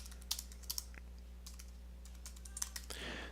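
Soft keystrokes on a computer keyboard while a file is written in the Nano text editor on Ubuntu, a few quick clusters of clicks spread across a quiet room with a low steady hum beneath.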